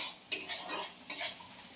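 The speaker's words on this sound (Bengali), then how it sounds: "আর লঙ্কাটা দিয়ে একটু সুন্দর করে লাল লাল করে ভেজে নিলাম।" Onions and chillies stir-fried in a wok, with metal utensil scrapes and clatters, two sharp strikes standing out over a steady close sizzle; no talking.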